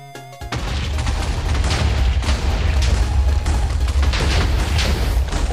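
A loud, sustained blast of explosive noise erupts after a brief quiet start, rumbling heavily with crackling debris throughout, like a big game explosion.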